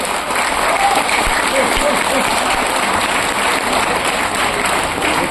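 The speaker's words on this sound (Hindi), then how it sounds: "एक बार जबरदस्त तालियां बजाइए सब लोग अपने लिए, अपने लिए।" Audience at a farming talk claps for themselves on cue, a continuous dense burst of hand clapping throughout, with some faint voices mixed underneath.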